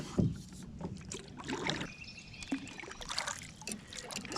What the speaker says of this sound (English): back to paddling.